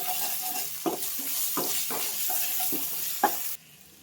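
Ginger garlic paste fries in oil with a steady sizzle and rhythmic scraping stirs, ending abruptly after about three and a half seconds.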